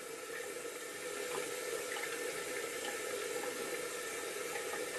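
Tap water runs steadily while someone rinses their face after removing makeup, a continuous close splashing hiss with no talk.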